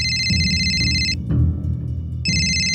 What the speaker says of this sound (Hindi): उठा क्यों नहीं रही हो? किसका फोन है?